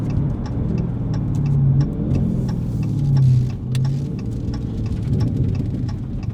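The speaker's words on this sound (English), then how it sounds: "Let me throw some downshifts in." A car fitted with an MBRP race exhaust rumbles low and steady through a series of downshifts, the exhaust note swelling and dropping in pitch several times, heard close with no talking.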